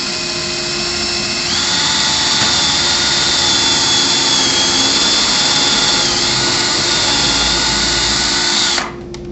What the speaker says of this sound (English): First, we'll need to pre-drill and countersink.